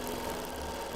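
A sewing machine running steadily while making lock stitches during free motion quilting on a hexie quilt, a close, even mechanical whir with no pause and no voices.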